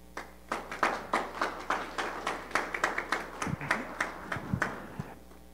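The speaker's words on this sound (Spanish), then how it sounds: "Vamos a recibirlo con fuertes aplausos." A sparse scattering of hand claps from a small audience at a Peruvian university documentary presentation, greeting a vice-rector of research, the individual claps distinct and rhythmic at moderate distance, with no voices.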